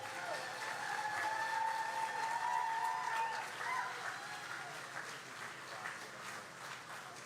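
An audience claps for a speaker coming up at a youth empowerment event in Nashville, a soft, fairly distant wash of applause that swells and then gradually thins out.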